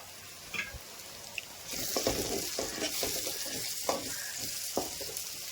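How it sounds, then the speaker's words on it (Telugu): Sliced onions fry in a pan, a soft sizzle that swells after a quiet start, with intermittent scraping stirs and light clinks, fairly faint and without speech. "ఇలా ఉల్లిపాయలు వేసి కలుపుకొని మూత పెట్టేసుకొని కొంచెం సేపు ఫ్రై అవనివ్వాలి"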